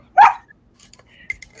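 A single dog gives one loud, close bark at a home during a live Friday night podcast, followed by faint rustling and small indistinct noises.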